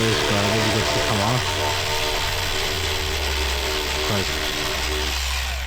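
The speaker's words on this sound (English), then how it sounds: "no way the electric ratchet" Electric ratchet whirring and clicking as it spins bolts out of a Mazda RX-7 engine bay, a loud, close motorized buzz with pitch changes and brief stops.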